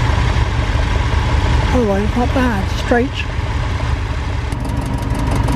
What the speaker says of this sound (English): Petrol engine in there too.